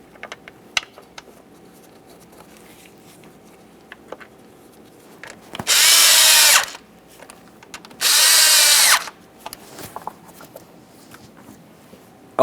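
Two 7mm bolts on a 1998-2011 Ford Ranger 2.3L engine cover are run in by a power driver, two loud sustained whirring bursts of about a second each, surrounded by light clicks and handling taps.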